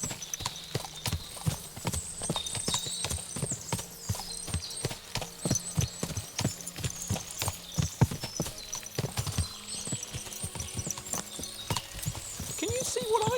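Many horses walk on hard ground in the medieval game Kingdom Come: Deliverance 2, steady overlapping hoof clip-clops close by, with a faint whinny and people talking over the hoofbeats.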